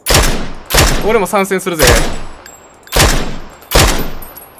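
Loud, close gunfire in the battle royale game PUBG, four sharp shots spaced about a second apart with a brief stretch of talk between the first and second shots.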